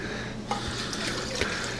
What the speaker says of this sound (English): we're just going to throw in some water in there